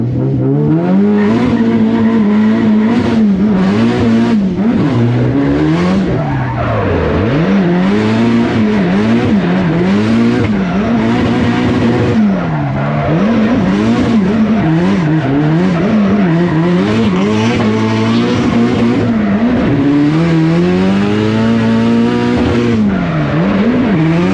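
A custom-built car, driven again after many years off the road, roars at full throttle with the engine revving up and down through gears and tires squealing, loud and close throughout.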